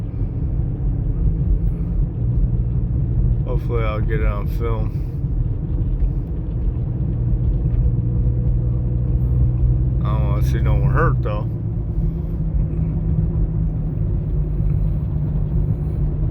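A box truck leaning to one side drives and turns, heard as a steady loud engine rumble throughout, with someone talking briefly over it twice.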